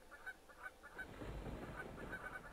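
Geese honk in a video game about a migrating flock, with repeated short calls over a steady low background and no talk.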